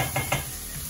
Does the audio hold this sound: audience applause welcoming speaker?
no